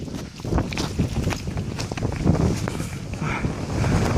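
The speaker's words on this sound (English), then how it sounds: "it's windy today." Wind buffets the microphone outdoors on a nature trail, giving a loud, uneven, gusting rumble that rises and falls the whole time, with faint rustling and no speech.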